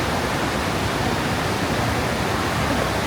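Water pours steadily from a large water feature at an empty Great Wolf Lodge indoor waterpark, a dense, even rushing hiss that fills the space without pause and with no voices over it.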